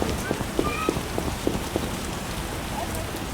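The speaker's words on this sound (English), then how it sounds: "What a downpour!" Steady rain in The Witcher video game pours down onto a hard surface, a dense hiss with scattered distinct drop taps, continuous and fairly close.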